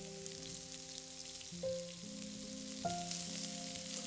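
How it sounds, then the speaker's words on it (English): Shallots sizzling in a dollop of healthy fat in a pan, a soft steady frying hiss with light crackles, fairly faint, under sustained background music tones. "Add a dollop of healthy fat, and in go your shallots"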